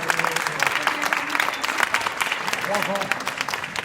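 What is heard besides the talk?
applause at a banquet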